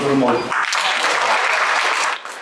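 Applause from medics of a regional main hospital base at a ceremonial stamp cancellation, a dense, loud, sustained clapping that follows a brief voice at the start and fades slightly at the end.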